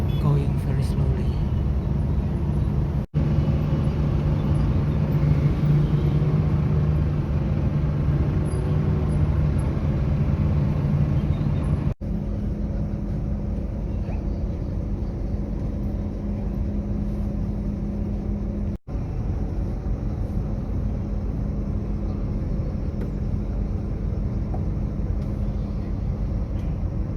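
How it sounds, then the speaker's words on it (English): Slow, congested road traffic stuck in a jam, a steady low rumble of idling and creeping car engines running through the whole stretch, with a voice talking over it. "the traffic is also so crowded, and it's been stuck for a while, and all the vehicles are going very slowly"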